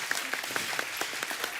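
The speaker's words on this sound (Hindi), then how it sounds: "एक बार जोरदार ताली हो जाए" A television studio audience applauds loudly at a comedy talk show, with dense, steady clapping from many hands that continues for the whole short stretch.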